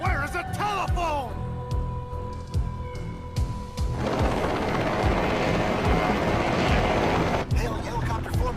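A helicopter formation flies over Tokyo in the anime film Patlabor 2: a voice speaks over rhythmic rotor thumping, then a loud, broad roar of rotors and engines swells and holds before cutting off sharply.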